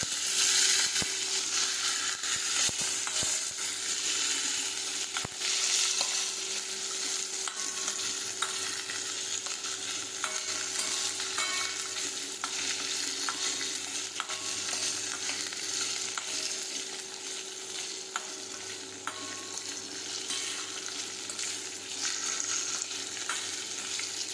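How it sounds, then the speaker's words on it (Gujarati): Okra frying in a pan for Gujarati okra kadhi, a steady loud sizzle with occasional scraping stirs throughout, no voices. "હવે આપણે ભીંડો નાખી દઈશું. હવે આપણે આ રીતે સાતળી દઈશું."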